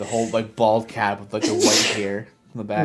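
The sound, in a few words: person sneezing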